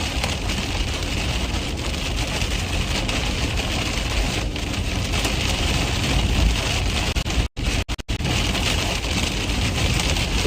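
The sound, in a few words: rain and hail hitting a storm-chasing vehicle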